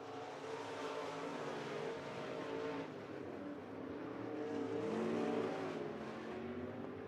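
Dirt track race cars roaring around the half-mile Thunderbird Speedway during heat races, a steady loud blend of several engines revving and droning without a break, swelling slightly as the pack passes.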